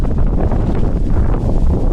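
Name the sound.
wind blowing on a mountain trek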